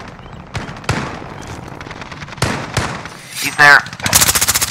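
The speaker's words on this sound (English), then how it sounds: "there's someone trying to shoot at us" Gunfire in the video game Call of Duty: Modern Warfare, with loud bursts of automatic fire and single shots crackling near and far, ending in a rapid, dense volley while a player speaks briefly.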